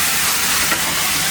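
Vegetables sauté in a hot pan with a loud, continuous close hiss and no talking.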